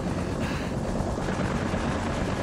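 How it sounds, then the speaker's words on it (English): Helicopter in the video game Far Cry 3, a steady dense rotor and engine roar filling the whole stretch at moderate loudness with no voices. "We still got to protect the helicopter."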